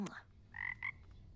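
A frog croaks in two short tonal calls, faint and fairly close, over a quiet low background.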